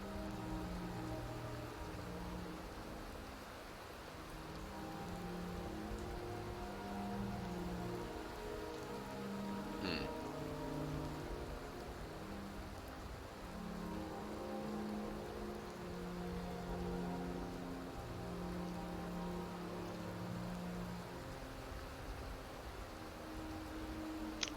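Steady rain falls in the video game Skyrim, a constant hiss of drops on surfaces with low rumbling underneath, lasting the whole stretch without talk.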